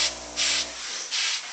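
A continuous steam iron growls and hisses in bursts as it presses a fitted sheet. The broad hissing swells come close and loud, about three pulses over a steady low hum.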